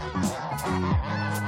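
Geese honk loudly and close by while being fed soybean pulp topped with rice bran, giving a few harsh, nasal calls in quick succession.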